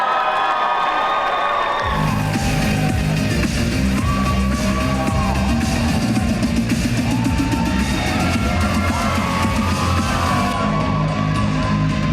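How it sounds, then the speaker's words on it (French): Loud, continuous crowd cheering with yells and whoops breaks out after a short quieter opening and carries through, greeting One Piece cosplayers at a group cosplay contest at Made in Asia 2023. "je vous demande d'applaudir bien fort les personnages de Perona et Dracul Mihawk"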